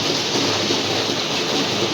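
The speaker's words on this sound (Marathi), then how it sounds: "पाऊस खूप पडतो घरात त्याच्यामुळे खूप असा अंधार सरला झाला आहे" Heavy monsoon rain pours steadily outside a house, a dense, loud, unbroken hiss with no speech over it.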